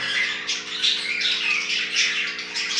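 Budgerigars, a breeding pair kept in an aviary, squawk and chirp rapidly and continuously at close range, with shrill overlapping calls and no talking.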